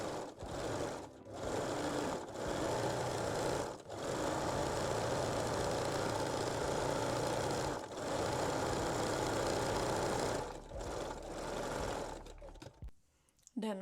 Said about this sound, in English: Then fold the elastic and stitch the waistline again.